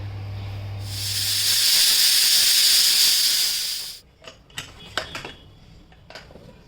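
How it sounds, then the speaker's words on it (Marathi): A pressure cooker holding peas with water lets out a loud, steady steam hiss that swells and lasts about three seconds, then cuts off. A few light metallic clinks and clatters of cookware follow. "कुकरच्या दोन चार शिट्ट्या घ्यायच्या"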